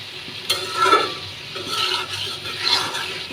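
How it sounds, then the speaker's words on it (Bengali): Thin-sliced mankochu (giant taro) with spices and green chili being sautéed in a pan, soft sizzling under repeated scraping stirs in uneven bursts, close and moderately loud, no talking. "এখন এই মশলাটার সঙ্গে কচুটাকে খুব ভালোভাবে কষিয়ে নিতে হবে"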